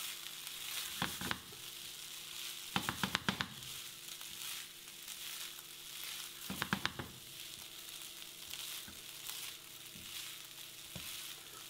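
Rice toasting in a pan for mushroom risotto, a soft steady sizzle with a few short bursts of stirring and scraping, heard close and fairly quiet, with no talk.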